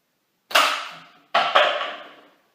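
Two sharp twangs from a homemade airsoft bow, the second quickly followed by a third snap, each decaying over a fraction of a second; close and clear with no talk.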